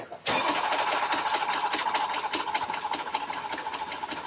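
A BMW M3 V8 with an empty fuel tank cranks after a brief pause. The starter whirs in a steady, rapid rhythm for several seconds but the engine never catches. It is loud and close, with no voices.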